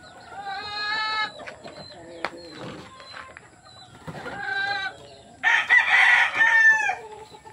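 A Kelso gamefowl rooster crows several times up close in a farm setting, loud harmonic calls broken by softer clucks and shuffling between them.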